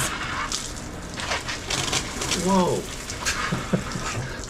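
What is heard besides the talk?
outdoor faucet turned on, water spraying from leaking vacuum breaker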